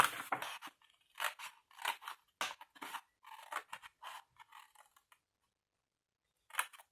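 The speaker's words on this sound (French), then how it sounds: "on coupe les plis jusqu'au premier trait là," Scissors snip through folded scrapbooking paper in a quick series of crisp, close cuts, each a short crunchy bite, with brief pauses between groups and a final snip after a gap.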